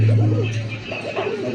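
Two caged pigeons being offered for sale give a loud, low cooing call, a steady throaty drone at the start that fades into softer burbling over a busy background with faint voices.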